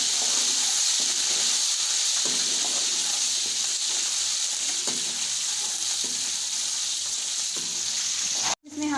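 Ginger garlic paste sizzling in a pan with lightly browned onions for murgh masala, a steady close frying crackle with occasional stirring scrapes, continuous until a sudden brief cutoff near the end.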